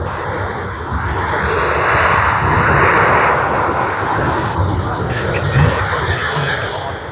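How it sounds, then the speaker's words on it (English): An Airbus A350 airliner at Sydney Airport gives off a steady, loud jet engine roar that rises and falls gently. Radio chatter and voices are heard over it. "the A350 is just around the corner, so we should be getting that"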